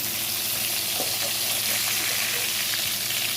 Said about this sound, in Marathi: ह्या मिरच्या अशा पलटून घ्यायच्या